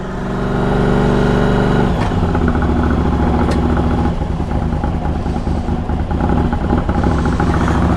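A Triumph TRX 850 motorcycle engine cranks and catches on choke, then settles into a loud, steady, close idle with a rich rumble that holds without a break.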